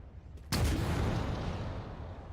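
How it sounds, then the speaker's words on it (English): A modded explosion effect from Halo 4 mod tools, in a Halo Infinite Scarab and Pelican mod, bursts out suddenly with a deep boom and then a long rumbling roar that fades slowly. "The explosion's kind of going off in the ground"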